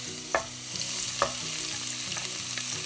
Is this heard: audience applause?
no